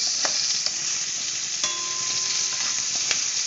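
Ginger pieces and sliced onion fry in a pan with a loud, steady hiss and sizzle, broken by a few clicks and scrapes of stirring, close and continuous without talk.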